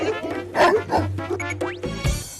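A dog barks and yips several times close by in quick irregular bursts, with whimpering tones between barks.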